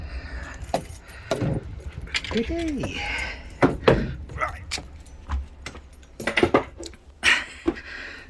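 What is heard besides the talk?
keys jangling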